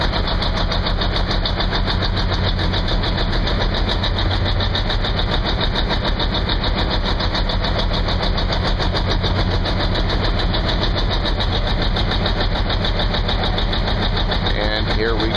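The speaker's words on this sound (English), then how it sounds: "Here we go, tank is about to pull." A tank engine roars loudly and continuously as it strains to pull two stuck MRAP mine-resistant trucks out of mud, a dense heavy rumble filling the whole stretch with voices faintly mixed in.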